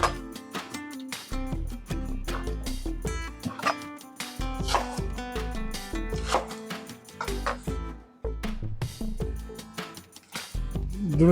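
Knife chopping an onion into chunks for a meat grinder, with the tough core removed, while making tender chicken cutlets: quick, close, uneven taps of the blade on a board, fairly loud, no talking.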